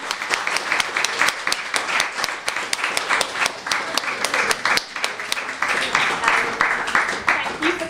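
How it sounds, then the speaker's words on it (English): An audience applauding panellists at the end of a language event, sustained dense clapping from a room of people, fairly close and steady throughout, with no speech over it. "Can we give our panellists a massive round of applause for their time?"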